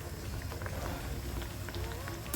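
Urad dal vadas deep frying in hot oil, a steady soft bubbling sizzle with scattered pops, close but quiet and continuous.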